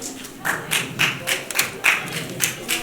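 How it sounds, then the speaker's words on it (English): An audience claps after a comedy set, a fairly faint, evenly spaced run of individual claps roughly twice a second rather than a full roar, with some murmuring in the background. "Big round of applause, everybody."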